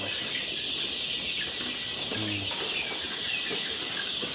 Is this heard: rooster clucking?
yes